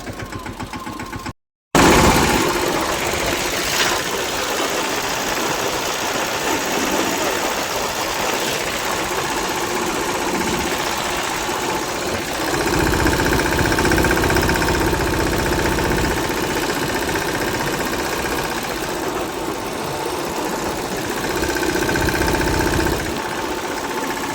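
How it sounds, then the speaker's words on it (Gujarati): A tractor engine idles loudly and steadily on a road after a brief cut, a continuous mid-pitched chugging with no talking. "મિત્રો આપણે ટ્રેક્ટર રસ્તા ઉપર ઊભું રહી ગયું અત્યારે"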